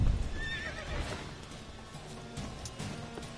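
Roach, a horse in The Witcher 3, whinnies loudly near the start, the neigh sliding and trembling, then hooves clop faintly beneath game ambience.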